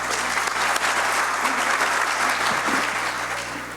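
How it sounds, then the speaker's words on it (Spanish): An audience at a talk on tax auditing gives a speaker a round of applause, with full, steady clapping that fades slightly toward the end. "Por favor, un aplauso para don Modesto."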